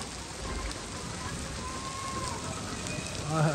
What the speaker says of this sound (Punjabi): ਤੇ ਬਾਰਿਸ਼ ਜਿਹੜੀ ਵੱਧ ਗਈ ਹੈ